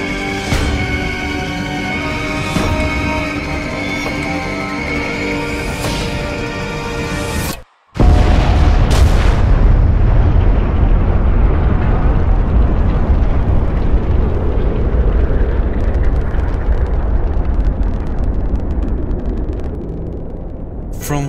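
A nuclear detonation sound effect follows a brief total silence, erupting into a massive sustained roar that rumbles and slowly thins over many seconds; before it, a layered tonal drone with soft recurring swells.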